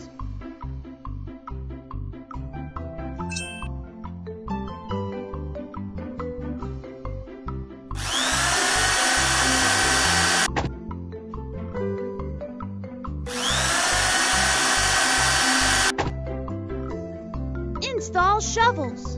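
A cartoon excavator's drills break through slate in two long, loud bursts of harsh rattling noise over playful background music, with a child-like voice speaking between them.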